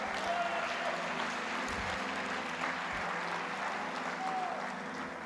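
Church congregation applauding during a sermon, a soft, steady wash of clapping heard at a distance and fairly quiet, with faint murmuring underneath.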